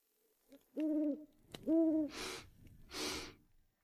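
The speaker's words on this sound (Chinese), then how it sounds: "是猫头鹰，但声音不对劲儿" An owl hoots urgently, two clear, fast hoots followed by two breathy, gasping exhalations, close and alone against silence.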